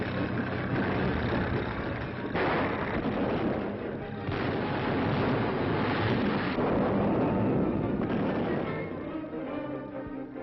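Sustained booming artillery fire from 1941 wartime newsreel footage of Soviet guns, a dense, continuous rumble of blasts and roar that stays loud throughout with no talking.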